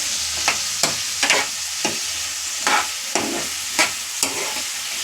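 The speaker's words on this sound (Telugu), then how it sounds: "ఉల్లిపాయలు అయితే ఇప్పుడు మగ్గించుకుంటున్నారండి" Onions sauté in a pan with a constant close sizzle, broken by regular scraping strokes of a spatula stirring them about eight or nine times.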